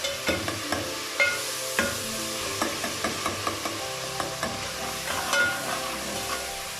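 A spoon stirs mashed tomatoes in a frying curry for aloo pakora curry, with scraping clicks and taps recurring irregularly over a steady close sizzle, with no talking.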